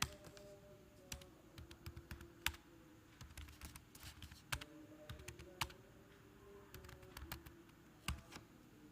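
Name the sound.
typing on a computer keyboard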